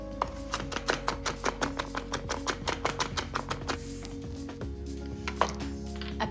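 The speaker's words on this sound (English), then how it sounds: "Just finely chop that." Fresh peeled ginger being finely chopped with a knife on a board, a fast steady run of sharp, close taps under a low kitchen hum, pausing briefly near the end.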